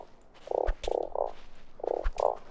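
A frog in the survival game Starsand croaks in five loud, evenly spaced bursts, with sharp gameplay clicks or shots landing between them.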